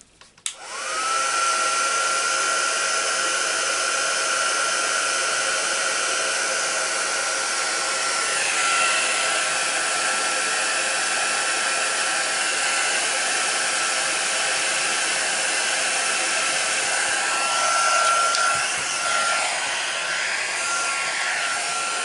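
Heat gun blowing a steady, loud whooshing whir while melting embossing powder on a paper craft piece, starting abruptly and running continuously and close with no talking.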